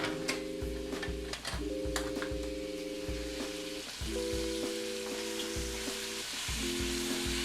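Chicken browning in a caldero pot for arroz con pollo, a steady crackling sizzle throughout with a repeating tonal hum behind it.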